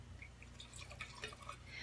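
Wine poured into a glass, a faint trickle of liquid with small dripping plinks over low background hum.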